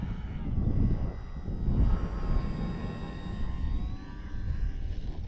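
A HobbyZone AeroScout S 2 RC airplane flying in a park, its electric motor giving a thin, steady whine as the throttle rises, heard at a distance over breezy outdoor background.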